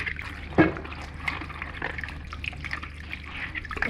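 Kitchen faucet water running and splashing while food is rinsed in a home kitchen, a steady close trickle with a few louder splashes and drips.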